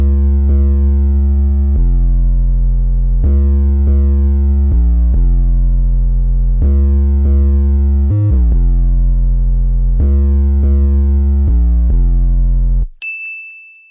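A deep, buzzy 808-style bass synth, a slightly reshaped sine wave with distortion and low-pass filtering in FL Studio, plays a repeating rhythmic pattern of sustained low notes, loud and upfront, ending with a brief high electronic tone.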